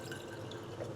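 Water trickles steadily into the bottom of a nearly empty glass sauce jar in a home kitchen, a soft continuous pour close to the microphone with no speech.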